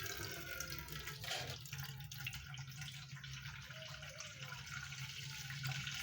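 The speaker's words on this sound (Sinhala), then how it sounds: "හොඳට වතුර පුරවා ගන්න එක" Tap water runs steadily into a vessel at home while pickle is being prepared, a continuous close gushing and splashing with no talk.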